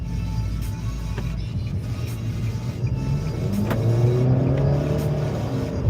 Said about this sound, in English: Pumping the gas over here.